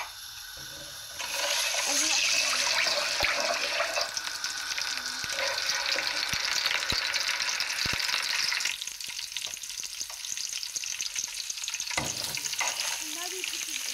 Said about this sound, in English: And now we're putting oil. Half cup of oil.